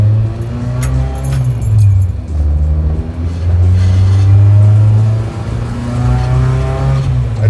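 A non-stock engine powers a custom widebody VW bus riding on air suspension, droning and revving with a steady low rumble that rises and falls, loud and close.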